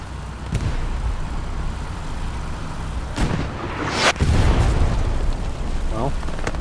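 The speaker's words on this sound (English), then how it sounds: "Is taking some rockets, it seems." Rocket explosions in the night battle on Foy in Hell Let Loose: a sharp blast near three seconds, then a heavier boom just after four, over a constant rumbling backdrop of distant combat.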